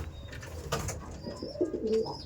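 Kalanka pigeons in a home loft give soft, throaty coos, a few short rolling calls close by over light background noise, with no talk.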